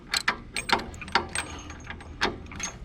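Ratchet clicks in short bursts while motor mount bolts on a 2003 Harley-Davidson are snugged down. The clicks are close and fairly quiet, coming in several quick rattling runs separated by brief pauses.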